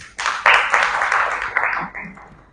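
An audience at a mushaira poetry gathering in a Karachi arts council library claps to welcome guests, a dense burst of applause that swells quickly, holds, then thins and fades.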